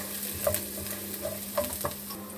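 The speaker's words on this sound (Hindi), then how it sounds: "मैंने कढ़ाई में 3 टेबलस्पून कुकिंग ऑयल लिया है और इसमें 4 टेबलस्पून चॉप किया हुआ लहसुन शामिल किया है" Chopped garlic frying in hot cooking oil in a wok, a steady soft sizzle with scattered stirring clicks and scrapes, close up and without speech.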